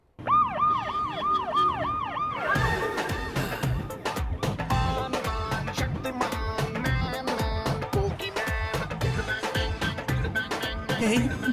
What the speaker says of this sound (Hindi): सर की गाड़ी में सायरन लगाया और शक्तिमान की तरह गया है।